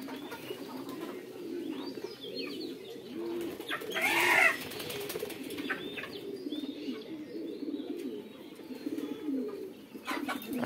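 Pigeons on a house rooftop coo in a low, continuous rolling murmur for about ten seconds, with a brief sharper chirp partway through. The cooing is moderately close and fairly soft, with no voices.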